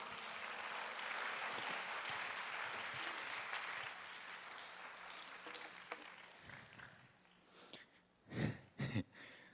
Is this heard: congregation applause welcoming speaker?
yes